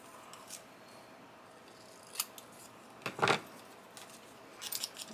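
Scissors snip through a paper label for a beginner folded junk-journal tag, with a few quick, close cuts standing out against a quiet room.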